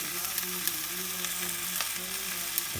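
Rolled pork Spanish birds frying in a pan, a steady moderate sizzle with faint occasional clicks of handling.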